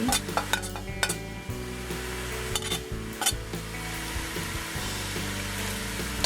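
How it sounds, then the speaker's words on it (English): Chopped onion and celery sizzle in a pot for Trinidadian pigtail pelau, a steady close frying hiss with frequent clanks and scrapes of a spoon stirring against the pot, no voices. "At this point, I'm also going to add the onion. A little bit of the celery."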